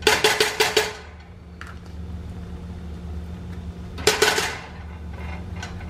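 Metal utensils clank against a Gotham pan on a stove as about four tablespoons of butter go in, with a quick run of bright taps, a quiet stretch with a low hum, then another burst of clatter.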